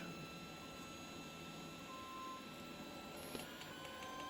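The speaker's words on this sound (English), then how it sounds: "This printer is quite noisy. It's almost like it's singing." A faint, steady mechanical whir with tonal, singing-like motor whines, like a 3D printer running, plus a short high beep near the end.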